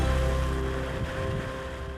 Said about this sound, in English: Yes, wind and waves,